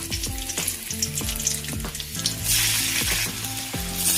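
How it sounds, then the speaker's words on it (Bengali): Dried red chillies frying in oil for a panta bhat khichuri, a close, steady sizzle that grows louder and hissier in the second half, under light background music. "শুকনো লঙ্কা দিয়ে একটু ভেজে নেবেন"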